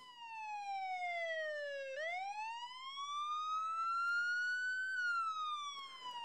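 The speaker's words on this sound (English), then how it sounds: "You hear the high pitch of the siren of an approaching ambulance." An ambulance siren wails loud and clear, its pitch sweeping down, jumping up, climbing slowly, then falling again, heard alone without talk.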